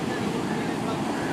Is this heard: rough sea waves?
yes